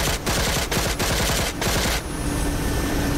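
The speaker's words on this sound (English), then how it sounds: "Opening fire." Helicopter gunship in the DCS combat flight sim opening fire on Houthi drones: a loud, continuous rattling burst of rapid machine-gun fire with sharp louder shots, over a steady rotor and engine drone that continues after the firing stops.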